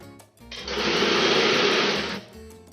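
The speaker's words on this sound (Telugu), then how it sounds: "ఒకవైపు స్టిచ్ చేశానండి మిషన్తో." A household sewing machine stitching cloth for an alteration, a fast steady whir that starts up, runs evenly for under two seconds and stops, close and loud.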